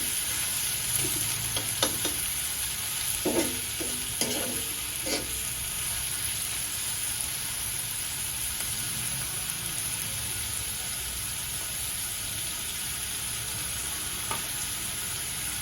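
Onion for sukka zunka sautés in a pan as a steady, fairly quiet sizzle, with a few spoon stirs and scrapes early on before the frying settles into an even hiss.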